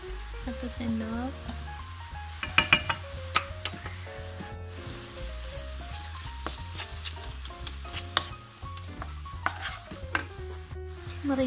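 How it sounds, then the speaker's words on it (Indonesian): Beef filling for mini martabak stir-fried in a pan, seasoned with salt, sugar and pepper, gives a steady close sizzle with repeated sharp scraping and clinking of a spatula stirring, over a constant low hum. "Kita tumis hingga dagingnya matang."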